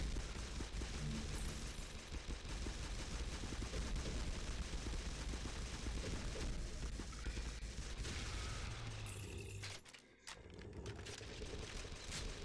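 Automatic gunfire in the SAS 4 zombie apocalypse shooter, a steady rapid stream of shots that carries on for most of the stretch before briefly dropping out, then resuming.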